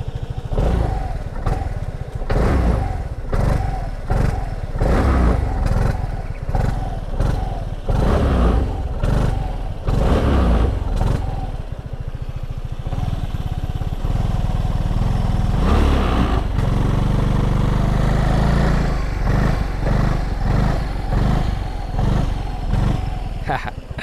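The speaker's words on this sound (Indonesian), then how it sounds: "mari kita dengarkan dulu suara mesinnya" A Vespa GTS Super Tech 300 scooter engine idles and revs close by, with a steady, throbbing rumble that blips and rises in pitch as the throttle is worked. No voices are heard.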